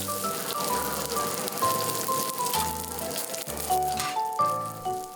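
Korean jeon batter sizzles and fries in oil in a pan on a Seoul pancake-alley griddle, a dense crackling hiss like steady rain with soft clinks and musical tones underneath.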